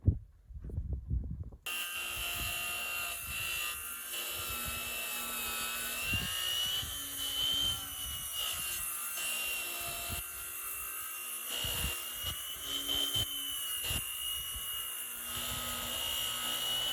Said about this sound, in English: This is going to be incredibly difficult to saw in half.